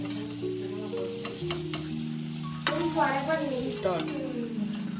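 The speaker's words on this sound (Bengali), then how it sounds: "এটাও আস্তে আস্তে ভাজতে হবে, নাহলে পুড়ে উঠবে।" Bread chicken rolls frying slowly in oil, a soft steady sizzle under a sustained low hum, with a few sharp clinks of a utensil against the pan.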